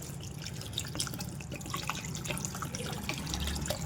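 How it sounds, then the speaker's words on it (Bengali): Water poured into mixed red lentils for dal, a steady trickling and splashing stream that runs throughout at a moderate level. "এইবারে দিয়ে দেব জল"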